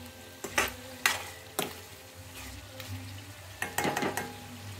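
Yogurt being stirred as it simmers in a pan: a low bubbling base broken by sharp scraping strokes of the spoon against the pan, several in quick succession and then a busier cluster near the end.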